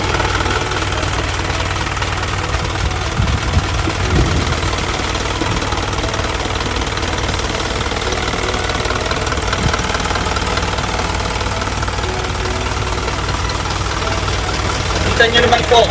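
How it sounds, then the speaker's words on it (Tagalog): An Isuzu 4HL1 turbo diesel engine on a dropside truck idles with a steady, knocking rumble, close and continuous, while someone talks over it at times. "Ang engine nito mga ka-tracker, 4HL1 turbo."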